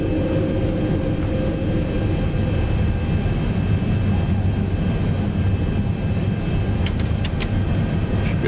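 Landing gear extending on a Boeing 737 in the X-Plane 11 flight simulator, heard as a steady, loud engine and airflow rumble with a low mechanical drone and a few brief clicks near the end.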